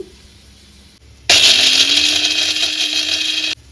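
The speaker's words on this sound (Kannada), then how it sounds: "ಇಷ್ಟು ಬೆಳ್ಳುಳ್ಳಿನ ಸೇರಿಸಿ ಮತ್ತೆ ಗ್ರೈಂಡ್ ಮಾಡ್ಕೊಳ್ಳಿ" A kitchen mixer grinder whirs loudly for about two seconds as it grinds garlic with spice powder, starting abruptly and stopping sharply, close and steady, with no talk.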